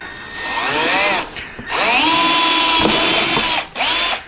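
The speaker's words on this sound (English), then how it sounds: "I'm not recommending that you drill it completely at an angle" A power drill whines loudly in two long bursts, drilling at a slight angle through an LED saddlebag hinge cover, its motor pitch rising and falling, with a short pause between them.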